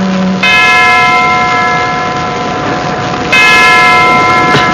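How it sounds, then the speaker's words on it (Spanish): An old lighthouse clock strikes slow, languid chimes, with loud, resonant bell tones that ring on and overlap as each new stroke sounds. "el viejo reloj del faro dejó escapar 10 lánguidas campanadas."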